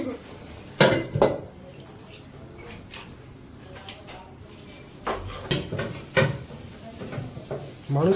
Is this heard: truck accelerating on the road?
no